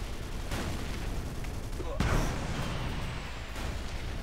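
Gunfire in the video game Ace of Spades, a dense, continuous crackle of shots and explosions with a sharper burst midway, heard throughout.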